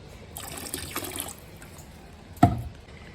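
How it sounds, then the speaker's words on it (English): Apple cider vinegar pours and splashes into a bucket of dye water, with a soft trickle followed by one sharp, brief splash. "Time for a splash of vinegar, apple cider style."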